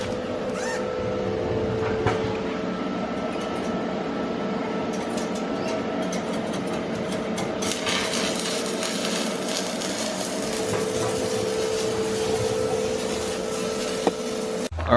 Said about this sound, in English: So let's weld.